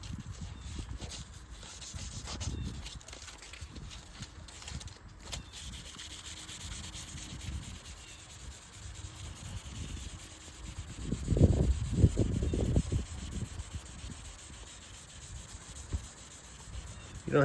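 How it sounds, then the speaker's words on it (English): Wet sanding a light scratch in car paint with 1500 grit sandpaper, a steady close-up rubbing rasp in back-and-forth strokes that grows louder and more vigorous near the end. "and do some wet sanding"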